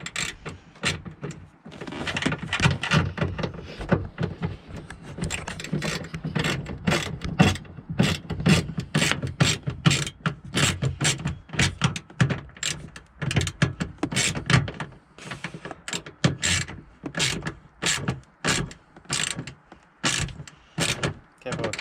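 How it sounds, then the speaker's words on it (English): Nuts being tightened by hand onto the plastic studs of a 2007 Mazda 3 tail light, giving a close, steady run of small clicks, ratcheting and plastic scraping throughout, with some mechanical noise mixed in and no talk. "You want to tighten it down, but you don't want to go too tight because you'll just rip nuts right out of the plastic."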